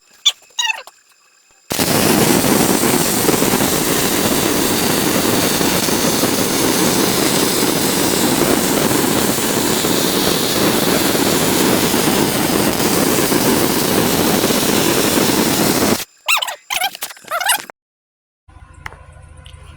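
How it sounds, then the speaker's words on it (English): Welding on truck bumper frame mounts gives a loud, continuous harsh roar lasting about fourteen seconds, followed by a few short bursts. "Now it's time to weld these up"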